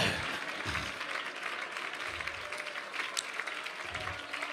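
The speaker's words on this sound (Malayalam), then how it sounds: "കൈയടിക്കുന്നവർ നേരെ കരങ്ങളടിച്ച് ദൈവത്തെ സ്തുതിക്ക്." A church congregation clapping hands in praise during a Christian worship service: dense, sustained applause from many people, even and continuous throughout.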